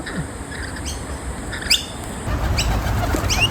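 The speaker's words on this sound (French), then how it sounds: "Ah, les pigeons sont arrivés." Pigeons arriving on a beach, with a sharp burst of flapping wings and a few chirps over a steady low rumble of surf and wind, fairly close.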